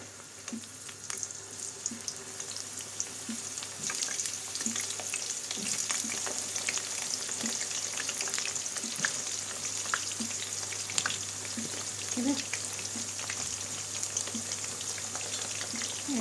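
Continuous sizzling and crackling of eggplant frying in a pan, with occasional stirring clicks and a brief word spoken.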